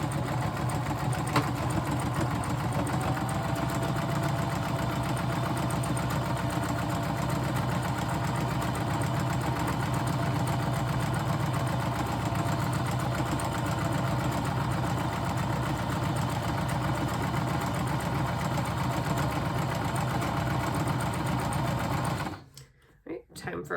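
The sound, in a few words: sewing machine stitching and backstitching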